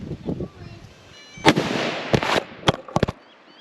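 Sharp 9.3 calibre rifle gunshots at an outdoor shooting range, several cracks over a few seconds, including a quick close pair near the end, with faint voices beforehand.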